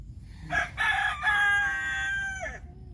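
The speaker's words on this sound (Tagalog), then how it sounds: "ayun yung isang manok" A chicken crows nearby, one long drawn-out call that rises and then trails off, heard clearly over a faint low background at a rainy fruit-tree plot.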